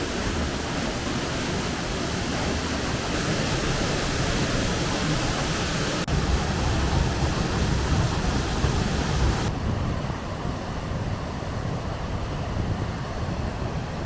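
Steinsfossen waterfall in Norway, heard close as a constant, loud, broadband rushing roar with steady intensity throughout and no voices.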